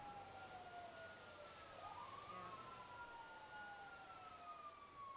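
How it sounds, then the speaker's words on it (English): An ambulance siren in a video game roleplay, a faint, distant wail sweeping down and then back up in pitch against quiet background hiss. "Ambulance is coming."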